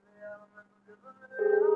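A phone call ringback tone comes through faintly at first, with intermittent tonal bits, then swells into a louder, steady pulsing ring tone over a constant low hum.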